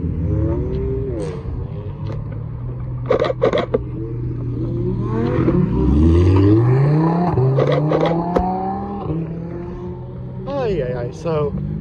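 Supercars including a Lamborghini and a BMW pull out of Supercarfest 2024, engines revving and rising in pitch as they accelerate past nearby one after another, loud and close, with excited voices talking over them.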